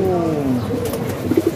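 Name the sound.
pigeon cooing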